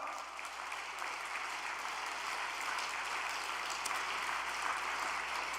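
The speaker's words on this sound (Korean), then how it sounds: "우리 2세, 3세 여러분들의 어머니, 아버지를 위해서 박수 한번 보내드릴까요?" Audience applause at a Korean lecture, offered for parents: a dense, even wash of clapping from a large hall crowd, heard at a distance and sustained steadily for several seconds.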